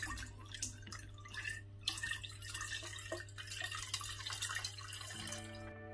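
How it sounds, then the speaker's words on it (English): Warm water splashes and trickles into a jar nearby, a steady pour over a low background hum. "I'm just going to pour it into my jar."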